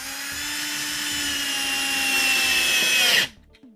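Power drill driving screws into plywood while mounting a sprinkler controller, one long continuous whine close up that cuts off abruptly near the end.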